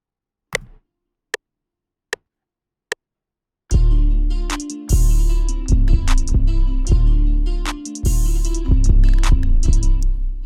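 Four sharp, evenly spaced ticks are followed by a loud hip-hop beat driven by deep, booming Dro 808 bass notes with a bouncy feel and punchy drums, all close and without talk.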